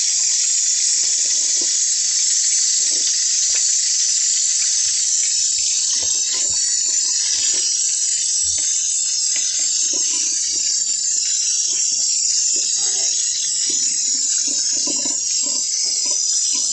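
Tap water runs steadily into a kitchen sink while raw meat for shish kebabs is rinsed, a continuous close hiss with faint splashes and clatter from handling underneath.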